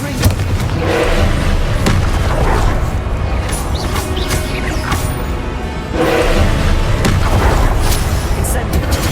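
Repeated explosive blasts from the Confringo fire spell in Hogwarts Legacy on PS5, heavy booming impacts that swell and crash several times amid battle noise, loud and close, with a voice speaking over them.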